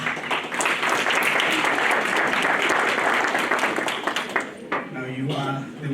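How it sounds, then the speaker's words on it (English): A group of listeners at a school reading event claps hands for a learner, a sustained burst of fairly loud, close applause that thins and breaks up near the end, with a voice starting to speak as it fades. "to have been received the clapping of the hands twice"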